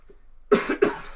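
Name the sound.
cough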